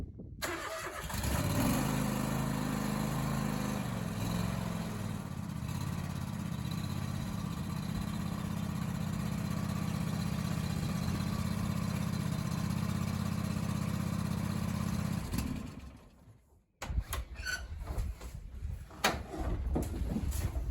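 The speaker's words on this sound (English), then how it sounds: "I'll give it a quick start on. Give it a bit of revs" A Range Rover diesel engine turns over and settles into a steady, loud rumbling idle that runs for a long stretch, then cuts out abruptly with clattery noise after.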